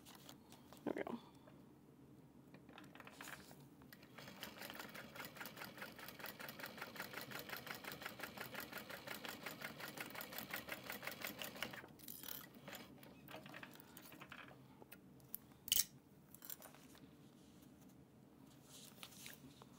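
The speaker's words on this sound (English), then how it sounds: "So now top stitching this is much easier." A sewing machine top-stitching a fabric train case runs in a quick, even burst of rhythmic stitching for several seconds, framed by quieter handling noises and pauses.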